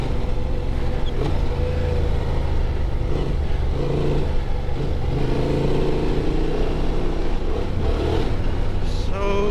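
A 2024 Honda Transalp XL 750 motorcycle rides through a desert wash, its engine droning steadily and loudly throughout with slight shifts in pitch, mixed with wind rush.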